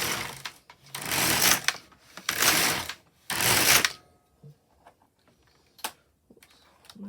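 A Brother LK150 knitting machine carriage is pushed across the needle bed to knit rows, three loud raspy sweeps about a second each, followed by quieter clicks and small handling noises.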